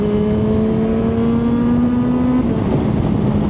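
A big bike in sports mode with an Akrapovic slip-on exhaust holds a loud, steady engine drone close by, its pitch rising slightly before easing off.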